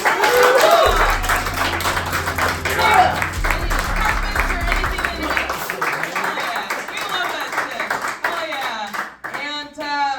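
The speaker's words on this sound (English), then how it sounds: "a big round of applause, super cool, for Amazing Results, who's sponsoring us today" An audience at a roast show applauds the evening's sponsor with a steady wash of clapping and crowd noise, a low bass thump running under the first half and voices talking over it near the end.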